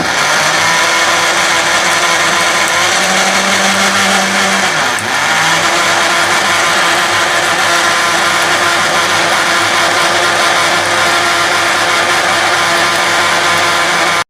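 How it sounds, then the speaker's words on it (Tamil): An electric blender grinds cardamom and cashew into a thick paste for Sri Lankan wattalappam, a loud, steady, high whirring drone that dips briefly midway and then runs on unbroken. "இந்த ஏலக்காய் முந்திரி பருப்பு எல்லாமே நல்லா கிரைண்ட் ஆயிடணும்."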